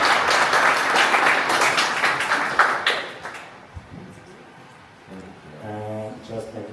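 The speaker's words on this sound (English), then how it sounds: "Give applause for the sponsoring." Audience applause at a Berlin tech startup event, a dense burst of clapping for about three seconds that then dies away, followed by soft tonal music.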